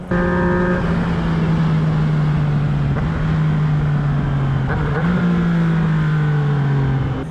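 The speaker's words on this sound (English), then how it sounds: "And then you start the CP3 engine, mud on, it sings, it whistles." A Yamaha XSR900 three-cylinder CP3 motorcycle engine revs steadily up close, a smooth droning note rising and dipping between throttle blips.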